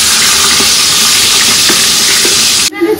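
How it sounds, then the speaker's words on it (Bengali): Katla fish fries in a pan with a loud, constant sizzle and hiss, broken by a few stirring clicks, before cutting off abruptly near the end. "ওদিকে তাড়াতাড়ি করে মাছটা ভাজা করে এখন রান্নাটা করি।"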